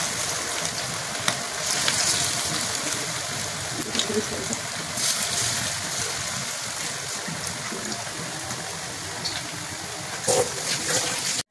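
Chicken frying in a pan, a steady soft sizzle and crackle running throughout with a few brief louder pops and clinks, fairly close and without talk.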